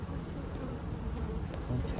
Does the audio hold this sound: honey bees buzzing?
yes